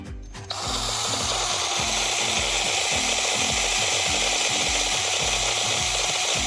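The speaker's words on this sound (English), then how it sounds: "we're gonna use this drill to spin these wires" A power drill whirs steadily and continuously at close range, spinning wires together for a wireless dog fence install, with a rhythmic grinding rub as it spins, no talking over it.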